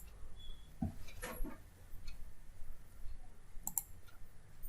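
A few sharp computer mouse clicks, isolated and fairly close, against a quiet room background with no talking.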